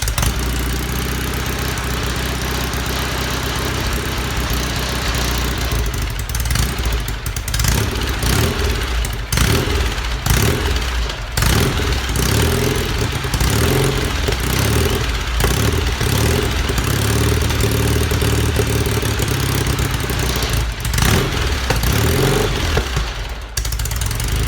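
A Norton Commando 750 motorcycle engine runs on choke low on fuel, a loud, steady idle with uneven, slightly surging pulses that falter near the end.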